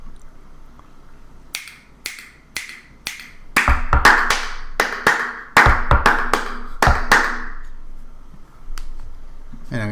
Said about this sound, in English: this time I will knock to get a different sound